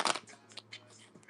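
Tarot cards are shuffled during a live reading: a quick riffling burst at the start, then a few soft, scattered taps and slides of the deck.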